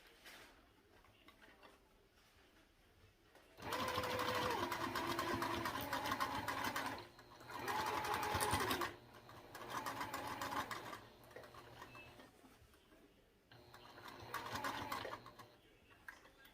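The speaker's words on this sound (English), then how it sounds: "So we sew this one now." Close, fairly loud sewing machine stitching a mini backpack runs in several bursts of a few seconds each, separated by quiet pauses with light handling sounds.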